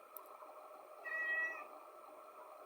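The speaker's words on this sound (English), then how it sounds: "What do you want, Wrestling Cat?" A house cat meows once, a single drawn-out tonal cry close by over a quiet room hum, alone with no talking.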